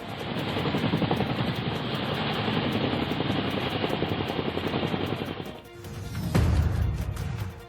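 A Chinook cargo helicopter landing on the Kedarnath helipad, a loud broad roar of rotors and engines with fast chopping, easing briefly before a sharp burst and continued rumble.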